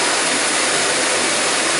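A Shark Duo Clean NV801UKT vacuum cleaner runs at a steady, even whirring roar, close and continuous, with no talking.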